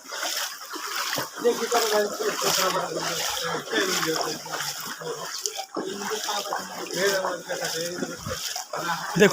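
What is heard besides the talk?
strong flood water current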